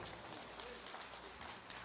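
A church congregation applauds during a worship service, a faint, even wash of many hands clapping that continues steadily through the short moment.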